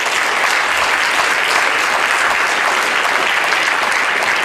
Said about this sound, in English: It's not even something that I want a round of applause on.